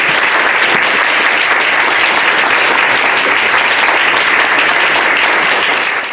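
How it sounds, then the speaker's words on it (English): Loud, sustained applause from the crowd at a town meeting after a resolution passes unanimously, a dense continuous roar of clapping that fades slightly at the very end. "prompting applause from the crowd"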